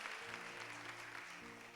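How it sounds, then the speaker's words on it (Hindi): A church congregation claps together during a Sunday worship service, a steady dense wash of hand claps running throughout with music tones sustained underneath. "इसके लिए जोर से ताली बजाए, ताली बजाए, ताली बजाए।"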